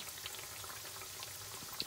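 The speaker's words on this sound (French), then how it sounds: "faire cuire avant de trop enfoncer les petits moules dans la friture" Apple doughnut moulds fry in hot oil with a steady, dense bubbling hiss, faint and even throughout, with small crackling pops.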